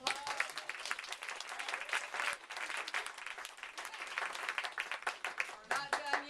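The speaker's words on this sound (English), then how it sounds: "Can we give them a round of applause?" Guests at a staged theatrical event give a round of applause, brisk and lively clapping with a few whoops, fairly distant and soft, tapering as a voice begins to speak near the end.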